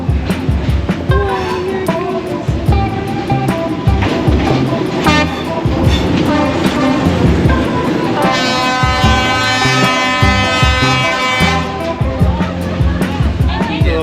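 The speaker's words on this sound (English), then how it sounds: "Alright, the train's coming." A small train rumbles past close by on Hanoi's Train Street with rhythmic clatter and a loud, sustained horn-like tone midway, amid street noise and people talking.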